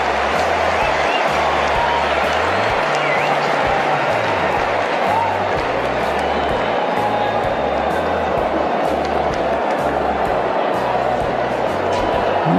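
A cricket crowd roars through a tense Super Over between New Zealand and Australia, with sustained yelling, cheering and applause in a loud, continuous wash, and commentary voices underneath.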